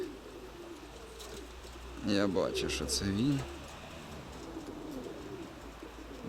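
Soft pigeon coos rise briefly in the middle, overlapping a man's speech, against a steady low outdoor hum.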